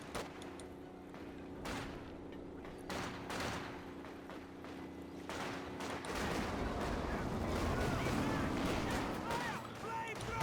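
MG34 machine gun fire in the strategy game Company of Heroes 2: bursts of rapid distant gunfire and battle booms roll under a commentator's voice, thickening into a denser barrage toward the end.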